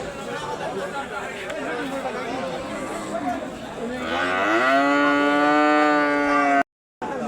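Cattle at a crowded livestock market bellow with a long, loud, drawn-out moo that rises out of steady background crowd chatter partway through.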